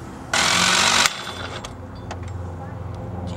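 An impact wrench rattles in one loud, steady burst of under a second while taking the variator nut off a GY6 scooter CVT, followed by quieter workshop clatter.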